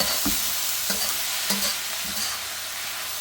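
Thawed peas are stirred into egg fried rice in a hot pan. A steady sizzle runs under a few soft scraping strokes of the spoon, close and with no voices.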